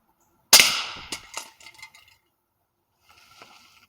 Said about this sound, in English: We're gonna try and shoot through a spray paint can and see what that does.